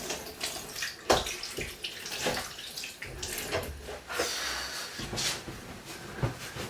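Running tap water splashes close by as greasy, buttery hands are washed under it, with uneven rushing bursts and some clunks of handling in a kitchen.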